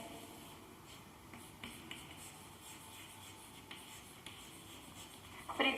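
Writing a word on a board, a soft continuous scratching of strokes with small taps, faint and close in a quiet room, no speech.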